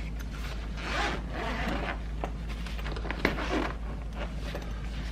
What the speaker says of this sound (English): As the zipper gets caught on the corner.